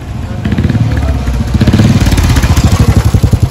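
A Royal Enfield Himalayan motorcycle engine idles nearby with a steady, loud, rhythmic thumping pulse. A voice speaks briefly over it.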